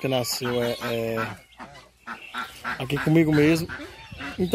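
A young goose gives loud, repeated honks close by, in bursts through the stretch, with someone speaking Portuguese over and between the calls.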